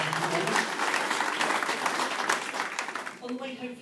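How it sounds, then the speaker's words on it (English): An audience at a supporters' club awards night gives a burst of applause, dense clapping that fills most of the clip, with a voice coming in as the clapping fades near the end. "Hand of applause, please, for West Birmingham and Dan and the Seattle"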